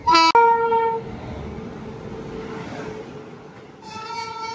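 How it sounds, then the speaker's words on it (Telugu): A WAP-7 electric locomotive hauling a train opens with a loud, short horn blast, then a steady rail rumble carries on before a second sustained horn tone sounds near the end. "వ్యాప్ 7 లోకోమోటివ్"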